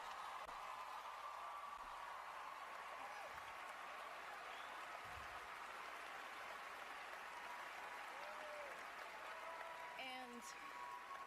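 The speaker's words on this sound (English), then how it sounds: "The whole crowd erupts, everybody agrees with her" A crowd applauds in an evenly sustained, distant-sounding wash of clapping that lasts throughout, fairly quiet and unbroken.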